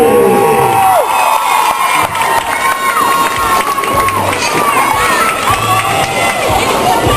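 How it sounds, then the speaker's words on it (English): Spectators cheer and shout at a roller derby bout, a loud continuous roar of crowd noise with whoops and children's yells, while an announcer's voice carries over it. "Danville, make some noise for Roxy!"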